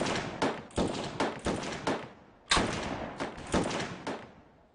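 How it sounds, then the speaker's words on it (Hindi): A rifle fires a five-round group in rapid, evenly spaced sharp cracks. Each shot is crisp and fairly close with a short decaying tail, and there is one brief pause partway through the volley. "5 राउंड ग्रुप फायरिंग।"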